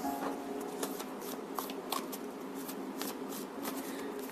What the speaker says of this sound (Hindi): फिर से शफल करते हैं.